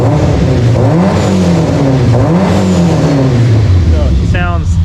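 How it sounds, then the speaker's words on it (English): A 600whp car on its stock engine revs loudly and close, the note rising and falling in several sweeping pulls over a continuous rumble. "I give her a little rev for it."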